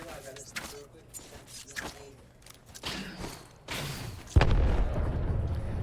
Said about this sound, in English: Lots of grenades coming out here.